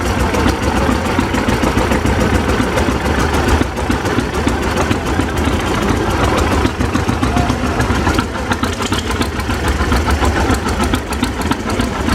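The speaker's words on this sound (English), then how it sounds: "This is a 1931 John Deere GP." An antique 1931 John Deere GP tractor runs at idle with a steady, loud engine note that persists throughout, set amid outdoor show background noise with a hay press nearby.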